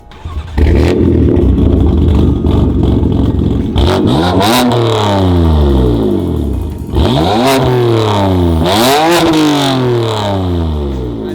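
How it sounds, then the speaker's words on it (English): A BMW F80 M3 on catless downpipes, parked and stationary, idles loudly and close up, then gets several sharp raspy throttle blips and longer revs that rise and fall in quick sweeps. "So that is the sound of the F80 M3."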